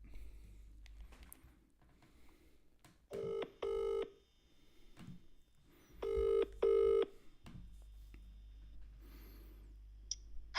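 An outgoing phone call rings twice, each ring a pair of short electronic tone bursts with a gap between, heard clearly over faint background hum and a few clicks.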